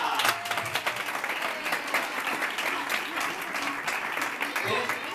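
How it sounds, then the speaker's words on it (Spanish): An audience at a storytelling show applauds a cooking pot named Lola with continuous, busy clapping from many hands, moderately loud with some crowd murmur mixed in. "Fuerte el aplauso a la cacerola Lola"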